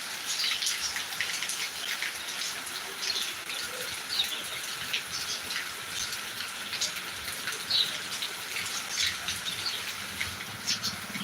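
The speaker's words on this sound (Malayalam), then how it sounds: "നല്ല കിടിലം അടിപൊളി മഴയാണ് കേട്ടോ കിടിലം മഴ" Steady, dense rainfall pours down close by in Attingal, Kerala, with constant patter and scattered louder drops and splashes; no one speaks.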